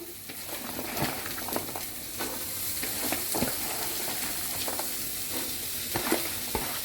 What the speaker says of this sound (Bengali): এখন আমি করলা দিয়ে দিব